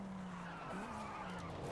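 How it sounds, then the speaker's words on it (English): Tires squeal in a continuous, loud skid as a car spins out in the racing game Forza Horizon 5, with the engine droning underneath throughout. "Man, this car is spinning out of..."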